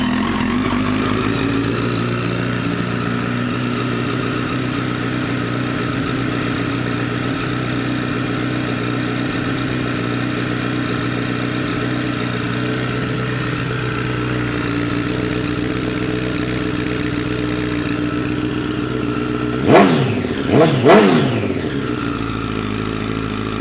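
A 2008 Honda CBR1000RR sportbike idles with a steady, close, loud hum, then near the end it gives two quick sharp throttle blips, one right after the other, before settling back to idle.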